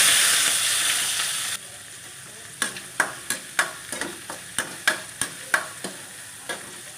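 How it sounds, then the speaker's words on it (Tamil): Onion and curry leaves sauté in hot oil, opening with a loud sizzle that drops away, followed by a quick run of sharp spoon clacks and scrapes against the pan, close up with no voices. "அடுத்து வெங்காயம் கருவேப்பிலை போட்டு பொன்னிறமாக வர்ற வரைக்கும் வதக்கலாம்."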